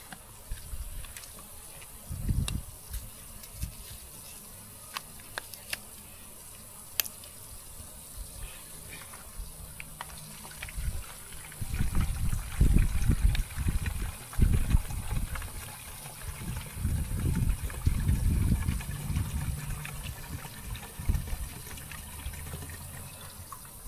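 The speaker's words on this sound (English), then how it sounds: "you want to take this bleach, maybe put like a quarter of a gallon of bleach in here" Bleach poured from a jug into a dollar store garden hose sprayer bottle, a low gurgling liquid fill that swells in the second half, with scattered handling clicks around it.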